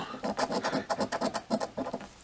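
A $30 Ultimate Millions lottery scratch-off ticket is scraped in a rapid series of close, rhythmic scratching strokes, loud and alone with brief pauses between bursts.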